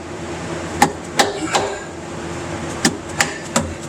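A hammer beating a slip yoke seal into a Jeep transfer case, sharp close metallic blows in irregular bursts, some in quick pairs, over a low background hum.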